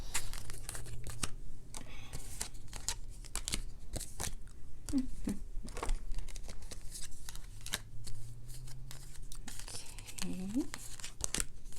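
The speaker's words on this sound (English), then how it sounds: "let's pull some cards to see what's happening for your career" Crystal Visions tarot cards being shuffled and drawn, a steady papery riffling and slapping of cards that runs throughout, with a voice speaking briefly over it.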